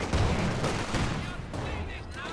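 Tank gunfire in a competitive World of Tanks style match targeting an Su-76 at max range: dense, loud booming bursts and rumbling impacts that run continuously through the whole stretch, with speech-like commentary noise blended underneath.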